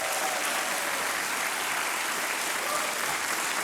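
Applause fills a hall at a political party congress, a steady, dense roar of many hands clapping at even volume from start to finish, somewhat distant and with no talk over it.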